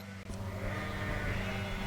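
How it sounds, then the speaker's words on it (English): Sheep bleat in a field in the Cotswolds countryside, one drawn-out cry heard fairly close over a steady background of outdoor noise. "As you can hear, they're very noisy today are the sheep."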